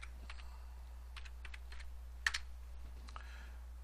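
Soft, close typing on a computer keyboard, irregular key taps with a few louder clicks over a steady low hum, while entering a macro tooltip in an Access form.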